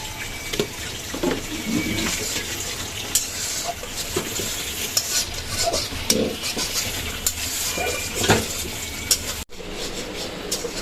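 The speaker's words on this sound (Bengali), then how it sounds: "এইখানে চলছে লতি রান্না করা" Taro stolons (lati) cooking in a pot, with a constant sizzling, bubbling simmer and repeated scraping and clanking of a spoon stirring through it, close and fairly loud.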